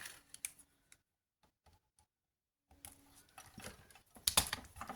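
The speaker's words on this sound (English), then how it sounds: "and then cut any excess off" Excess wire snipped off a handmade wire tulip, heard as a few small, close clicks and snips, with a quiet gap between bursts of light handling noise.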